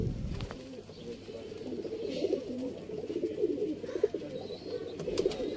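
Sialkoti choohay domestic pigeons coo steadily and close by, a continuous layered murmur of throaty calls running through the whole stretch with no talking.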